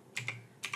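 Computer keys are tapped in two quick pairs of clicks, close and crisp against a quiet room.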